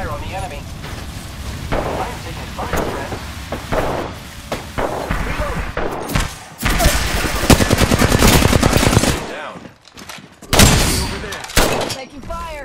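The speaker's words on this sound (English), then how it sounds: "Opening fire on the enemy." Dense automatic gunfire from the video game Apex Legends, with rapid rattling bursts and heavy thumping shots in quick succession, loud and close, under brief voice lines.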